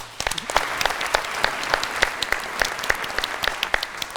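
A studio audience applauds at the grand final of a children's quiz show, a steady wash of clapping with distinct sharp claps standing out, moderately loud and without speech over it.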